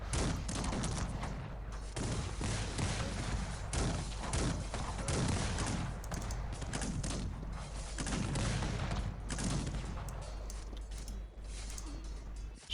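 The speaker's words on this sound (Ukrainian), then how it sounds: "І артилерія до нас уже трішки потрапила" Artillery fire in the strategy game Cossacks 3 during an English campaign battle: a dense, continuous barrage of booms and crackling volleys, loud and sustained throughout with no clear pauses.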